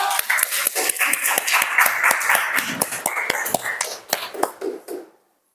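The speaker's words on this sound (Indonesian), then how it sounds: "Tepuk tangan dulu." Students in a classroom clap after a group presentation, a bright burst of individual hand claps with some voices mixed in, fading and stopping near the end.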